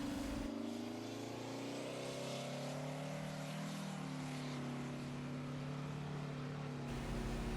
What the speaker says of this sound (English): This truck should go 0 to 50 in under 30 seconds.